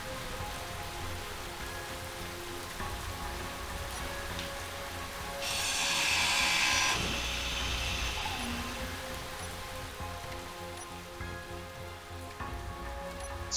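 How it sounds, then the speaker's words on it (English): Steady rain patter and hiss in the game Space Engineers, an even wash of droplets on surfaces with a brief louder burst midway, under a low ambient hum, no talking. "That's their way of showing rain. Some sound effects and a bit of fogginess."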